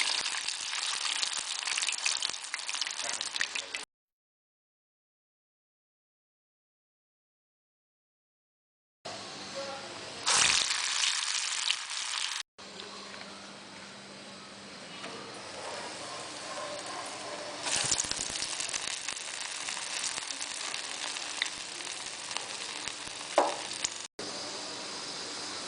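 Urad dal vada batter dropped into hot oil for minapa garelu: a loud, bubbling sizzle of deep frying, close up, broken by a silent gap early on and then resuming with surges as more batter goes in.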